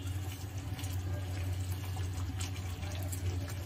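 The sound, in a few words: water being added to a pan while making kesari bath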